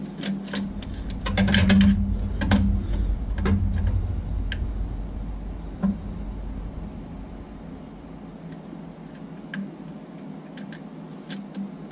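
Socket wrench ratcheting up behind the transmission of a Jeep TJ, quick clusters of small clicks early on, then sparser isolated ticks, faint under a low steady hum.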